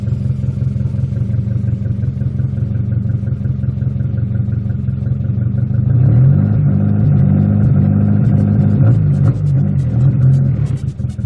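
Turbocharged D16Z6 engine in a Honda Civic build, running steadily with a low rumble, then given throttle taps that make it surge and rev louder in the second half.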